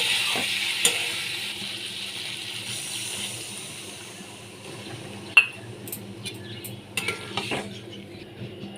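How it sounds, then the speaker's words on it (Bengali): Vegetables frying in a pan while a bowl of water is poured in, with a faint sizzle, stirring and a few clear metallic clinks of a utensil against the pan, close and fairly quiet. "এবার এর মধ্যে আমি অ্যাড করব এক বাটি জল"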